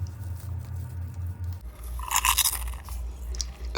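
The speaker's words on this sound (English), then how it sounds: "Listen to that crunch." Someone bites into freshly baked homemade puff pastry made with real butter, giving a short burst of crisp, flaky crunching close up, alone over a low background hum.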